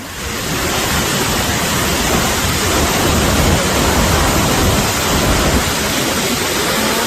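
A powerful waterfall deep in the forest of southern Laos roars in the rainy season, heavy water falling from a height in a loud, continuous broadband rush with no voices.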